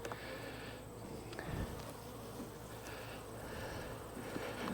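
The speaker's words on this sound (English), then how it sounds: "you can see they're flying off the excluder and trying to bump me" Honeybees swarming around an opened hive with a queen excluder, a dense, constant buzz close to the microphone with occasional louder passes of individual bees.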